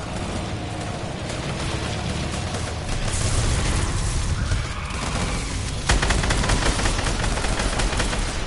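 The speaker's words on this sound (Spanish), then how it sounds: "Escucho disparo." Rapid bursts of video game gunfire from a PS4 match, dense automatic fire with heavier booming shots, continuous and loud, one sharp louder blast near the end, no talk.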